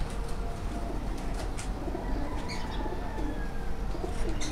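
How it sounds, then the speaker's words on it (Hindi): Pigeons cooing and chirping on a rooftop as they are caught and brought over, with wing flutters over a continuous noisy outdoor background and no voices. "ये सामने हालत भाई पकड़ पकड़ के वो कबूतर ला रहे हैं"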